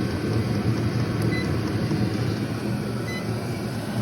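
A Hcalory Chinese diesel heater runs with a steady, fairly quiet whirring hum and a soft airy rush. The sound stays even and continuous throughout, with a couple of faint high tones.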